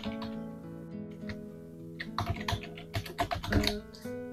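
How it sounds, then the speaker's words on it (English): A recipe search is typed on a computer keyboard in bursts of quick, close key clicks, irregular in rhythm and heaviest near the end, over a faint sustained musical tone in the background. "So I just typed in recipe using applesauce."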